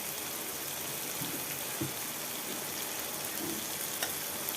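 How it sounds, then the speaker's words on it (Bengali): Potatoes frying in a spiced masala in a pan make a quiet, steady sizzle, with a few soft stirring clinks and bubbling pops over the top. "তো বন্ধুরা আমি আলুটাই দিয়ে দিচ্ছি, বেগুন দিচ্ছি না।"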